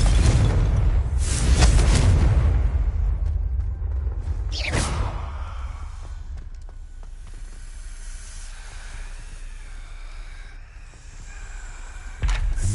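Confringo blasting spell in Hogwarts Legacy, loud booming bursts with whooshing hiss near the start, a sharp blast around the middle, then fading rumble and a final burst, with no talk.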